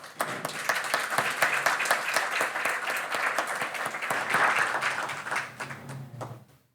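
Applause from a conference audience in Chile as a speaker is invited to the stage: a steady, fairly soft wash of many hands clapping that tapers off at the end.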